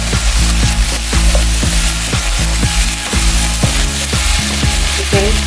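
Chicken and vegetables sizzle loudly in a hot pan, with a steady frying hiss and regular scraping knocks from stirring.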